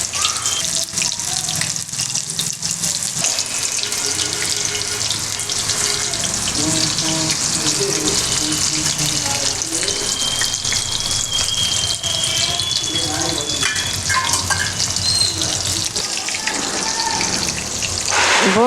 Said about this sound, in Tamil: இப்போது காளான் எல்லாத்தையுமே உள்ளே போட்டு நல்லா பொரிச்சு எடுத்துக்கலாம்